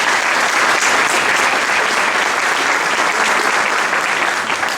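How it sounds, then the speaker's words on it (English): Sustained applause from an audience greeting elected officials at a civic gathering, dense and steady clapping filling the room at full volume with no voices over it. "Please, a big round of applause for all of our elected officials who are here with us"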